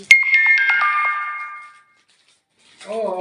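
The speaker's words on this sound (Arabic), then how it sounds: "الموبايل عمل صوت رساله" A mobile phone plays a message notification tone: a bright descending chime of several quick notes that rings out and fades, loud and close, then a voice briefly speaks.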